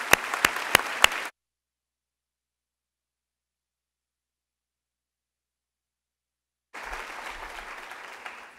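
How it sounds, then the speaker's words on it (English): Audience applause for the Madtown Singers at a talk event, a few sharp claps at the start, then a long silence before a fresh round of broad clapping swells in near the end. "so if we could please give them another round of applause."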